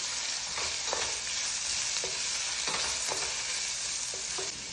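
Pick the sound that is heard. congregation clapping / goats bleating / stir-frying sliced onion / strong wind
stir-frying sliced onion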